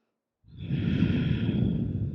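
A long, steady exhale during a yoga session, breath pushed out through the mouth close to the mic, starting after a brief silence and holding at an even, airy level.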